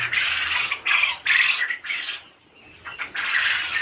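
A farm flock of about a thousand young quail, a dense, loud chorus of high chirping and squawking in bursts with a brief quieter lull, heard close without talk.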